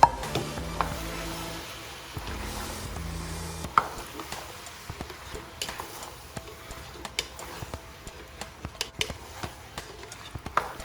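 Lauki (ghiya) is stirred in a pan with spices, herbs and fried onions, giving irregular spoon scrapes and clicks over a faint, low sizzle.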